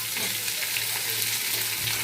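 Onions go into a pan of frying vegetables, giving a brief, even sizzle with light crackles and soft stirring taps, heard up close and fairly quiet.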